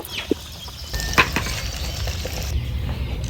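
Eggs frying and being stirred in a pan over an outdoor stove, a soft sizzle with scattered scrapes and clinks of a utensil against the pan, close and fairly quiet.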